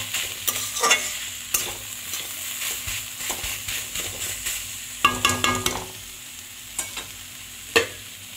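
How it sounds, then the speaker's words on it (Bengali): Thor ghanto, a Bengali banana-stem dish, is stirred in a frying pan with a spatula, a soft sizzle underneath and repeated scraping, clattering strokes in bursts, close and fairly loud with no talking. "আবার একটু নাড়িয়ে দিচ্ছি।"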